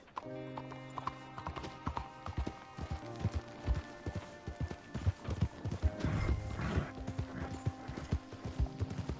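A horse in a PS4 video game gallops with rapid, loud hoof beats close by, rising to a dense burst midway, with neighing and a steady tonal game-score background underneath.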